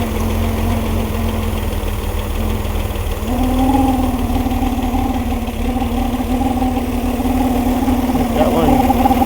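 A basket-case 140 engine idles steadily after its idle is turned up, a loud continuous drone whose pitch steps up partway through, with a noisy fan bearing adding a whine on top.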